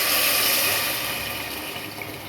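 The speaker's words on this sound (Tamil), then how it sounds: "இப்போ புளி கரைசலை ஊற்றிக்குவோம்" Tamarind water pours steadily into a pot with a continuous splashing hiss that slowly eases off, close and fairly quiet.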